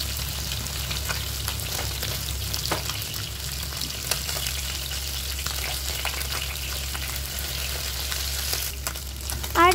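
Bele fish frying in oil in a wok, a steady close sizzle with scraping and stirring as the pieces are carefully turned, continuous and alone without talk.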